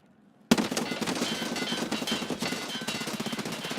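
A magazine of gunfire from Escape from Tarkov Arena rattles out in a sharp, rapid automatic burst after a short silence, loud and close, with steady shot-by-shot pulses continuing to the end.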